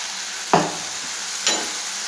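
Dosa-style batter cooks in a pan over medium heat, giving two short sizzling hisses about a second apart against a quiet background.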